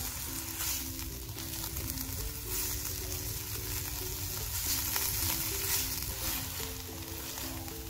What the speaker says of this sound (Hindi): प्याज को हमने ब्राउन नहीं करना, हल्का सा सौते करना है